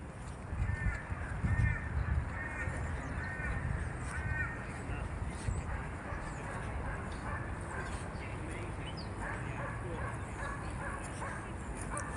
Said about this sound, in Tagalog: Tingnan natin muna itong mga uwak.